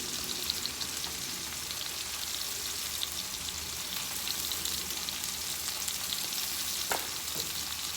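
Food caramelizing in a hot pan while seasoned with black pepper, for creamy scalloped potatoes with cheese: a steady, dense sizzle and crackle that carries on without a break, close and fairly loud.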